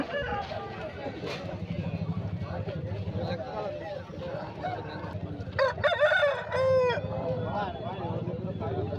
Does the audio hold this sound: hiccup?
no